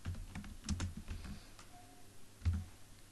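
Computer keyboard typing while entering PHP code for a WordPress theme: a quiet, uneven run of soft key clicks with a couple of heavier keystrokes, close and alone without speech.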